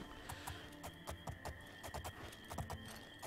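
A horse in the video game Oblivion clip-clops along at a steady walking rhythm; the hoofbeats sound quiet and even over a faint background hum.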